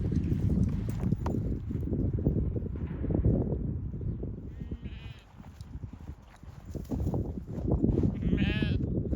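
Sheep in a field at Temple Wood, Kilmartin Glen, bleat repeatedly amid a noisy outdoor scene, two clear wavering calls standing out over rustling, footsteps and wind.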